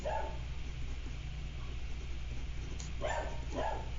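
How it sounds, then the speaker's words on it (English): A dog barks in the background: a couple of distant, muffled barks near the end, over a steady low hum in a quiet room with no talking. "I'm so sorry for my dog in the background."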